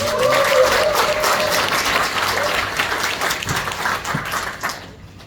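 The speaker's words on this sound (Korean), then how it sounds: "큰 박수로 모시겠습니다" Loud applause fills a hall at the launch ceremony of a Korean party's labor committee as a National Assembly member is welcomed to give a lecture. A dense crowd claps steadily, then thins and fades out near the end.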